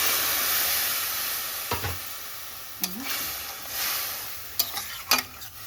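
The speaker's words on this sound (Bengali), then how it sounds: "এবার কিছুক্ষণ একটু ভালোভাবে ফুটিয়ে নিচ্ছি।" Pumpkin stalk and potato curry simmering in a pan after water is added, giving a steady bubbling hiss with a few brief stirring scrapes and clinks near the end, with no talk.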